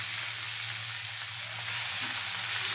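Eggplant pieces fry in a pan for a dhaba-style baingan masala, giving a steady, close hiss and crackle of hot oil that continues evenly without talk.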